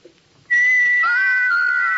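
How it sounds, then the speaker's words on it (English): Small carved wooden figures whistle from a radio drama, a bright sustained tone that starts abruptly and holds steady, with a second lower whistle line gliding in underneath partway through. "These little carved figures can whistle."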